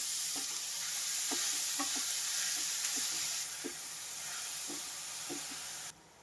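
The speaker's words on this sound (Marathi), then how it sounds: "हे बघा आपलं गाजर असं परतत आहे मस्त पाच मिनटं चांगलं परतून घ्यायचं तुपामध्ये" Grated carrot fries in ghee in a wok for carrot halwa, a steady sizzle and hiss with soft, repeated scrapes of stirring close by, and the frying noise drops sharply near the end.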